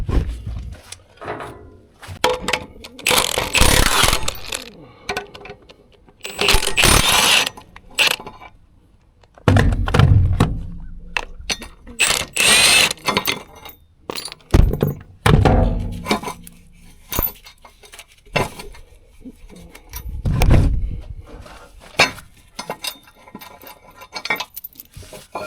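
A metal plate is unbolted and pulled off a skid steer before washing, giving repeated loud metallic clanks, scrapes and rattles in irregular bursts with short quiet gaps, all close to the microphone.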